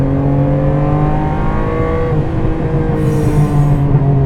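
A 1991 Ferrari Testarossa flat-twelve revs hard toward 7,000 rpm, a loud, close, sustained engine howl that climbs, dips slightly, and holds its pitch throughout.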